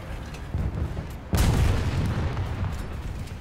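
A War Thunder tank's main gun fires once with a heavy, booming report over a steady engine rumble, then the low tail rolls on for a few seconds.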